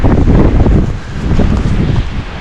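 Strong wind gusts across an exposed mountain meadow on a ridge. A loud, continuous roar buffets the microphone close up, swelling and easing slightly, with faint rustling underneath and nobody speaking.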